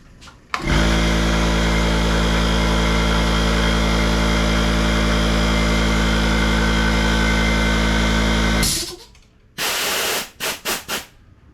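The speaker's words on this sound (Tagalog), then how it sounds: "Okay, so try natin tong i-try natin baka naman nasira tong compressor." A Predator 2200 watt air compressor starts abruptly and runs loud and steady for about eight seconds with a strong low motor hum, then cuts off, followed by a few short bursts of air.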